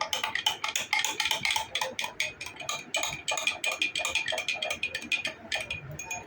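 Ingredients for katora palu, a sugar-free milk dessert sweetened with sugandhi syrup, are stirred in a bowl, with a spoon clinking quickly and steadily against the sides in dense, bright, close-up taps.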